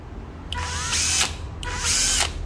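A Japanese cordless drill, model 7440, is triggered twice, giving two loud, close high-pitched motor whirs of under a second each, separated by a brief pause, with no talking.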